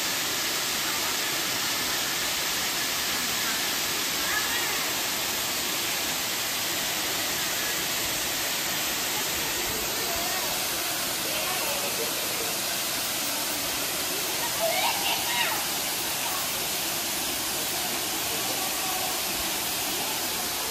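Waterfall at Bride's Pool and Mirror Falls in Hong Kong, a steady broadband roar of rushing water that fills the whole scene from start to finish.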